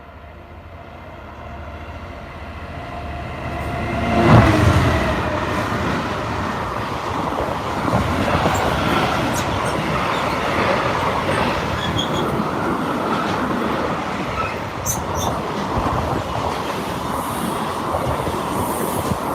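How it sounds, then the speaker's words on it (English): A freight train rumbles past close by, a steady heavy roar with rattling wagons and wheel clatter building up and continuing for the whole stretch. "Ooh, another freight train."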